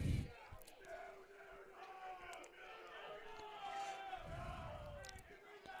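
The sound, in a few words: baseball crowd noise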